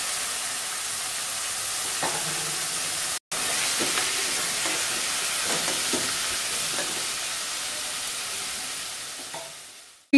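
Washed mutton and a cup of curry leaves frying in hot oil, a loud, steady close-up sizzle with stirring, one brief cut-out early on and a tapering at the end.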